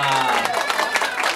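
An audience applauds for Silvia, a model at a show, with a steady wash of clapping and crowd noise while a voice speaks briefly at the start.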